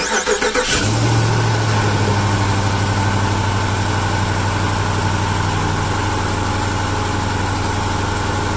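A vehicle engine, recently worked on with a new oil cooler, cranks briefly and catches, then settles into a steady, loud idle with a rough low rumble and a constant hum that runs uninterrupted to the end.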